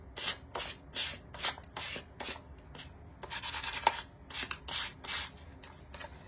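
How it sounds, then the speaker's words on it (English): Sandpaper rubs over a Dollar Tree box pumpkin light to give it a worn look, a series of close, rhythmic scratchy strokes in bursts, with short pauses between passes and no talking. "So I am gonna sand this a little."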